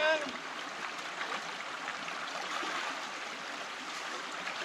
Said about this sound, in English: Just let that water and stream kind of flow in.